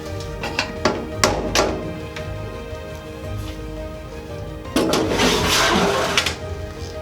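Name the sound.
ash drawer pulled out of wood-burning fireplace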